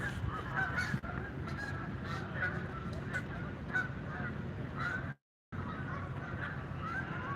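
A flock of geese in New York City honks continuously at a moderate distance, with overlapping calls that have a short gap near the end.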